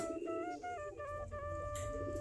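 Pigeons cooing and calling nearby, steady tonal calls overlapping over a constant background hum, with no talking.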